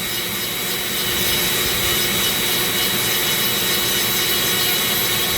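A Dremel rotary tool spinning at about 25,000 RPM with a coarse carving bit grinds a zebra wood ring, giving a steady, close, unbroken high-pitched whine and rasp that runs the whole time with no talking.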